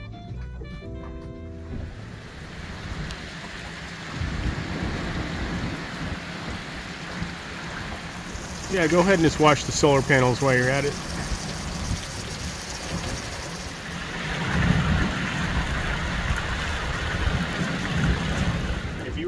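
Rain pours steadily onto a shanty boat travelling the Tenn-Tom Waterway, a dense constant patter with heavier surges, while people speak briefly nearby.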